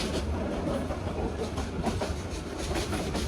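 The Bijoy Express passenger train rumbles steadily along the rails near Mirsarai station, Bangladesh, with a soft rhythmic clatter, heard from onboard, with no talking.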